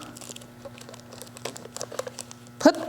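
A plastic bag crinkles and rustles while being handled to make a kazoo from a paper towel roll, soft irregular crackles ending in one louder crunch, with no talk over it.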